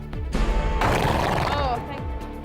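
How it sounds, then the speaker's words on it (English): Olympic dressage horse Valegro whinnies with a loud, wavering neigh that rises and falls over a couple of seconds, close and clear amid background noise. "what Olympic legend Vallegro thinks of being replaced by a younger model"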